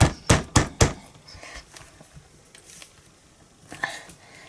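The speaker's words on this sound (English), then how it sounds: "I give it a thump, so excuse the noise." Three sharp, close thumps in quick succession as an inked background stamp is pressed onto white cardstock in a Stamparatus stamping platform, followed by faint handling rustle and a couple of lighter taps.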